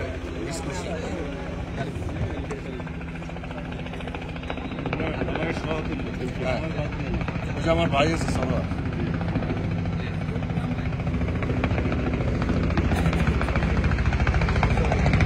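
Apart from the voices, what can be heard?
helicopter approaching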